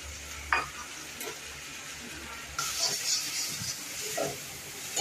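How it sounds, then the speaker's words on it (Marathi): Onion and tomato frying in oil in a pan, a steady close sizzle with stirring scrapes and brief clinks as the mixture is turned. "चांगलं तेलामध्ये परतून घ्यायचं टोमॅटो कांदा."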